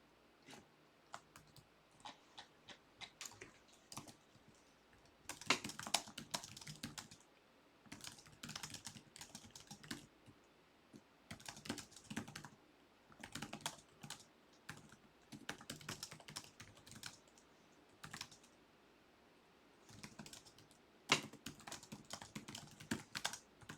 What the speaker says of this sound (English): Typing without saying it out loud while trying to say other stuff out loud.